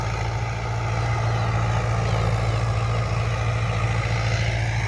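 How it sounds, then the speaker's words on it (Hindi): A Preet tractor drives a super seeder while sowing organic HD2851 wheat in a field, its engine a steady, loud, continuous drone with a low rumble throughout and no talk over it. "ट्रैक्टर है"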